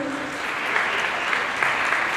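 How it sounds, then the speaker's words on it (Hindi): Audience applause at a quiz event in Karachi for Pakistan Day 2021, a sustained even round of clapping from a room of people, moderately loud and without talk. "भरपूर ताली होनी चाहिए।"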